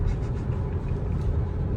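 Cadillac XTS engine pulling under throttle through a turn, a steady low rumble of engine and road noise from inside the cabin, constant and fairly loud with no talking.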